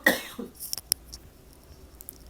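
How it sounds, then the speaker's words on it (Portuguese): One short, quiet cough at the start, followed by faint clicks and rustling in an otherwise hushed room. "Licença só um instantinho que eu vou ter que tossir."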